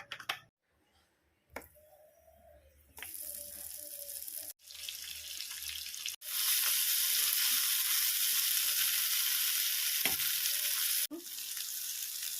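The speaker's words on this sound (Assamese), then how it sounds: "কেৰাহীত মই ইয়াত তেল দিলোঁ। তেল দি কচুখিনি মই ভাজি ল'ম।" Pieces of taro frying in oil in a wok, close and loud crackling sizzle in bursts broken by abrupt cuts, with running tap water at one point and no speech.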